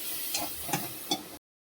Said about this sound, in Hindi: बस अब मसाला भुन जाए, देखो तेल रिलीज होने लगी है